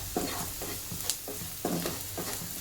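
Masala with potatoes sautéing in a pan, a soft continuous sizzle broken by rhythmic scraping stirs of a spoon against the pan, repeated several times at close range.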